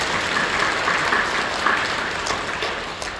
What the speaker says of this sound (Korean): 박수로 감사해 주십시오